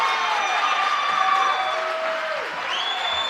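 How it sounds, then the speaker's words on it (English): Grenadier home crowd at a college basketball game cheering and clapping continuously, a broad roar with whistles and shrill whoops rising over it, a commentator's voice faintly mixed in. "And a little more energy from this Grenadier crowd"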